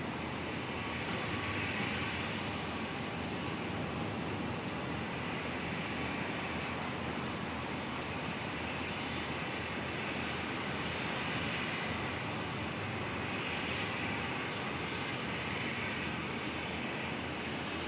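Virgin 323 airliner from Melbourne arriving at Brisbane Airport, a steady broadband engine roar that holds evenly and gently swells and fades, heard from a distance without any talk.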